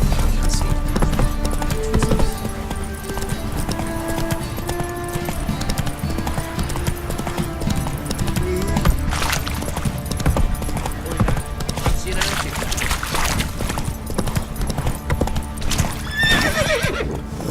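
Roach, a horse in The Witcher 3: Wild Hunt, gallops with steady clip-clop hoofbeats and lets out whinnies, alongside game music and ambience at close, loud level.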